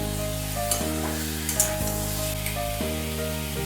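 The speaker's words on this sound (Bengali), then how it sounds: "পনিরটা কিন্তু জাস্ট একটু হালকাভাবে নেড়ে ফেলে নিচ্ছি" Paneer tossed with Kashmiri chilli powder and turmeric in a frying pan, a close continuous sizzle broken by short scraping stirs, alone over soft background music.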